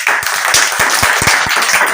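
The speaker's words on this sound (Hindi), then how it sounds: "इनके जोरदार ताली करिए भैया आप लोग।" A crowd claps at an outdoor election campaign gathering: brisk, loud, close-up claps with individual hand strikes standing out over a dense background of applause, briefly.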